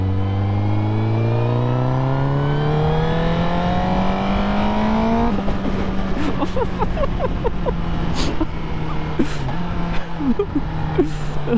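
A 2023 Honda CBR 1000RR sport motorcycle revs up through rising pitch, then blips through rev-matched downshifts with sharp throttle stabs, loud and close, with wind noise and no talk.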